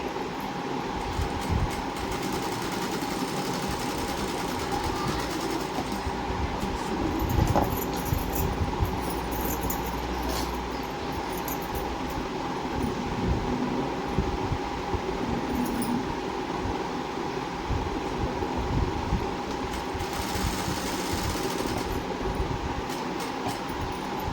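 Continuous sewing machine running steadily while stitching the shoulder seams of a lined blouse, a close, even mechanical drone with no pauses and no talking.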